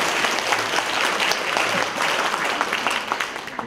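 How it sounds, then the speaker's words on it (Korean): An audience at a public debate on a Starfield store opening in Changwon applauds a young participant, a dense, steady burst of clapping that eases slightly toward the end. "고등학교 졸업하신 지 얼마 안 되셨다고 우리 박수 한번 부탁드립니다"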